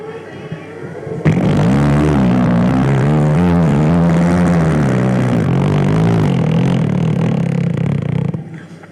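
A human voice imitates a motorbike, a loud, sustained engine-like drone with wavering pitch that starts abruptly and revs steadily for several seconds before cutting off.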